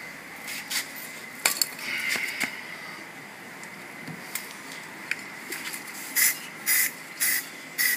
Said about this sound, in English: Little sprays here, little spray there.